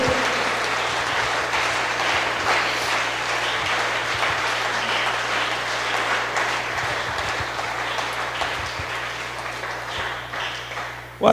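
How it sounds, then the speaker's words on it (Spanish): Sustained applause from a church congregation during a Spanish-language worship service, steady and dense for several seconds before a sudden loud burst at the very end. "Hay un aplauso para el Rey en esta noche"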